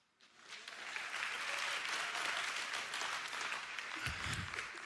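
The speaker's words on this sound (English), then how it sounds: "You don't have to clap for me." An audience applauds at a high school awards night in a hall, sustained dense clapping that swells quickly and holds steady, with faint voices near the end.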